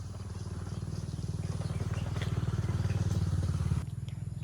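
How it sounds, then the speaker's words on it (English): A motorbike runs near a rice field in Hinunangan, Southern Leyte, Philippines, its engine a low, rapid putter that swells slightly and cuts off abruptly near the end. "There's motorbike."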